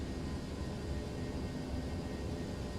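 A ToLiss A319 airliner takes off out of Orlando in X-Plane 11 with a steady, fairly quiet broadband engine roar that holds constant throughout.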